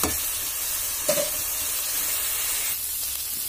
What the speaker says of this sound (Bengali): মশলাটা ভালো করে ভাজা ভাজা করে তারপর ঝোলটা দেবো